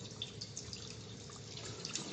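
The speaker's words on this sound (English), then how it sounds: "Water's going to come out of the sight tube." Water steadily flowing and trickling out of the sight tube of a backflow test kit during a double check valve assembly test, a continuous faint hissing splash with no talk.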